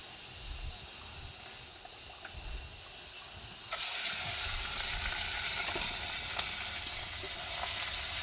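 Spiced fish frying in a pan: a quieter background at first, then a sudden burst of loud, steady sizzling that holds to the end, with scattered pops.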